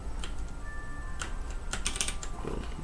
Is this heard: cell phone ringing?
no